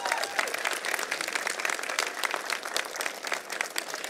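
A large audience at a university convocation for master's and PhD graduates claps in sustained, dense applause, loud and even throughout with no pause.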